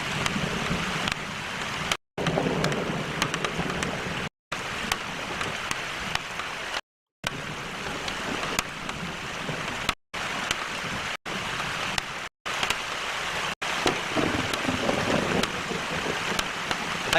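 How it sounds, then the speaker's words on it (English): A steady rushing, crackling roar of debris falling from a volcanic pyroclastic flow, continuous and fairly loud, with several abrupt brief dropouts and no voices. "All that shit falling down is part of the pyroclastic flow."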